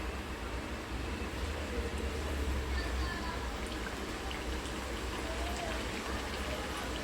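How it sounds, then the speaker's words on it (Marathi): Small wheat-flour dough balls dropped into a modest amount of hot oil, frying with a soft, continuous rain-like crackle and hiss, low in level and steady throughout, heard close by. "चला आपण आता एक एक गुडिया त्याच्यामध्ये टाकूया"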